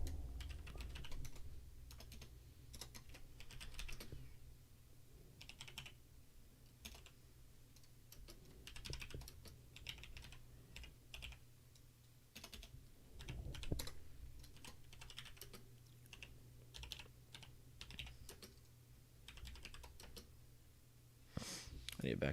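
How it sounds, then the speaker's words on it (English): Computer keyboard typing, quiet clusters of key clicks tapping in irregular bursts across the span, with faint sniffs and low background hum. "I'll type that right now."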